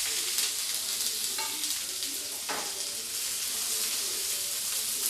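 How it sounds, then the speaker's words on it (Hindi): A carrot and bean stir-fry sizzles steadily in hot oil tempered with urad dal, mustard seeds and curry leaves, giving a constant loud hiss with a few faint stirring clinks and no talking. "तड़का जब रेड हो जाए तब मैं डालूँगी सब्ज़ी को।"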